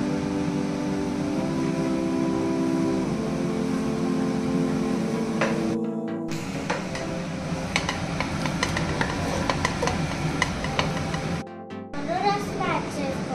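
Andhra-style fish curry mixture stirred in a pan, with steady scraping and sizzling under a voice and other voices, occasional utensil clicks and two brief dropouts breaking the sound.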